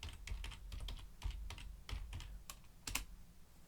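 Quick, uneven keystrokes clatter on a computer keyboard close by, a short burst of typing with no voices.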